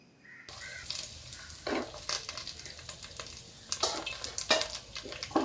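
Garlic and bird's eye chilies for a papaya and date pickle sizzle gently in a pan, with repeated clinks and scrapes of a spoon against the pan as they are stirred, close and moderately quiet.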